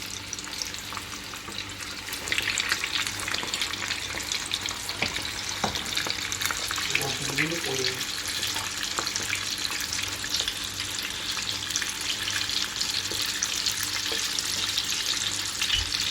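Chicken pieces for a crispy chicken recipe fry in a pan, a steady hiss and sizzle of oil with some stirring and a brief watery splash, close and constant throughout.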